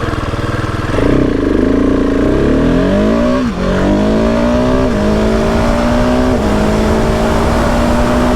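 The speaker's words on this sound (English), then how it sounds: "It's really hard to launch this bike." A 2020 Husqvarna 701 SM motorcycle launches hard, its single-cylinder engine revving loudly and rising in pitch through several gear changes, close and continuous with no talking.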